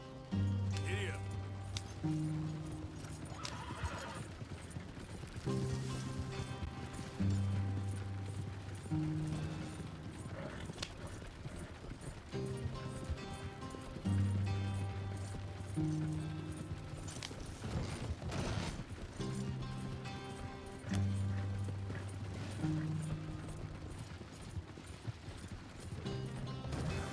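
Horse hooves galloping in a steady rhythm in Red Dead Redemption 2, beneath a continuous music score with occasional clatter.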